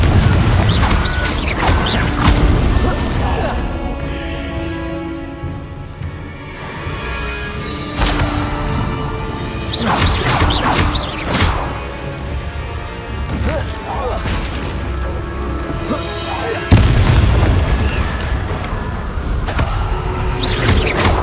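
Spell casting in the Hogwarts Legacy video game brings repeated magical whooshes, sharp blasts and booming explosions in quick succession, loud and close, with a voice shouting incantations between the impacts.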